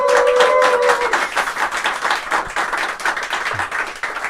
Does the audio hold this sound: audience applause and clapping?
yes